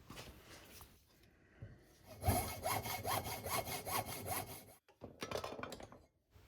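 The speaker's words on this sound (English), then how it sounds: "I reverse the barrels in the vise to cut the opposite side" Cutting through aluminium Kawasaki Z1 engine barrels clamped in a vise, a close rhythmic back-and-forth sawing with regular strokes for a few seconds, then a brief pause and a short resumed burst.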